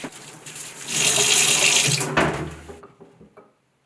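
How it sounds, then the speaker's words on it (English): Water runs and splashes as a clay jar is scrubbed in hot soapy water, rising to a busy sustained wash, then tapering off into scattered trickles and silence. "It's then given a really thorough wash in hot,"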